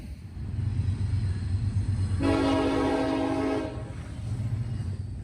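Horn blasts ring out for about a second and a half over the steady rumble of an NS 143 freight train, with a Faramex 4643 locomotive trailing among the power; the rolling rail noise continues before and after the horn.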